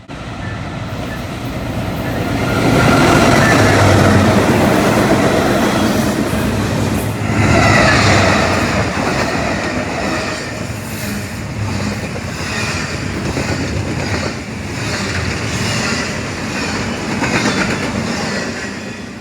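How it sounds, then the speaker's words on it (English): An eastbound freight train led by a freshly rebuilt AC44 locomotive rumbles past at speed, loud and close, with a continuous roar of wheels and rhythmic clickety-clack of cars over rail joints. "The next train was a surprise eastbound with a freshly rebuilt AC-44 in the lead"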